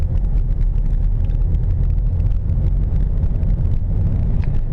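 Steady low rumble of road and engine noise inside a moving car, continuous and fairly loud with no music playing, a constant drone throughout.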